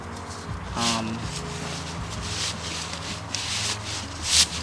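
A cover worked over the outer ridge of a tiny house tire, producing rubbing and scraping sounds with a brief creak, close and steady.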